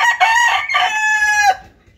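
A rooster crows loudly and close by, one long cock-a-doodle-doo that rises and holds, among fighting cocks being conditioned two days before a cockfight.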